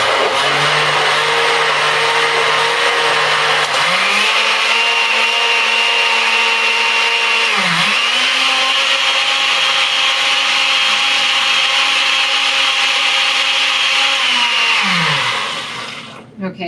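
A kitchen blender pulping pre-pulped paper for handmade papermaking runs continuously at a loud, steady whir, its motor pitch stepping up and briefly dipping as settings change, then winding down at the end.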